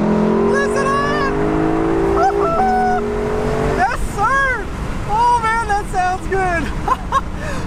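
A 2021 Lexus LC 500 Convertible in Sport Plus mode pulls onto a back road, its engine note rising and falling through the gears over steady wind and road roar, close and loud.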